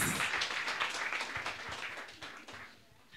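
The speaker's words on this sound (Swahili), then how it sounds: "clap for Jesus" A church congregation claps for Jesus during a service. The applause is loud and dense at first, then gradually thins and fades over a few seconds.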